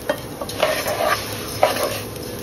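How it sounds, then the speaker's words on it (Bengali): Raw rice grains being stirred and lightly fried in oil with bay leaves in a pan for khichuri, a close scraping of utensil against pan with a soft sizzle, a few quick strokes, no speech. "এখন দিয়ে দিচ্ছি আমি চালগুলো দিয়ে একটু ভাজবো। নেড়ে নেড়ে একটু ভাজা ভাজা হবে।"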